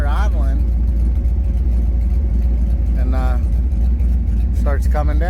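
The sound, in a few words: 93-02 F-Body car engine idling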